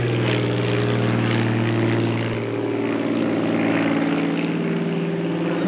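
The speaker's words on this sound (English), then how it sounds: "It's an airplane. Just an airplane." A propeller-driven fixed-wing airplane flies overhead near a sawmill, giving a loud, steady, harmonic engine drone that holds for several seconds, with no talking.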